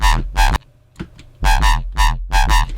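A distorted, stereo-widened jump up bass synth plays loud, chopped stabs in a bouncy pattern, with a short gap midway before the stabs return.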